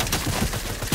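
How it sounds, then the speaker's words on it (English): Rapid bursts of gunfire from the Fortnite video game crackle in a dense, continuous volley, moderately loud and lasting about a second. "He's trying to shoot me down."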